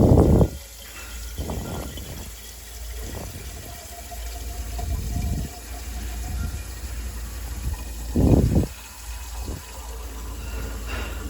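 Water runs and splashes through a Bio Renew filter housing while carbons are flushed out, a steady wash punctuated by several louder gushing bursts, with no talking.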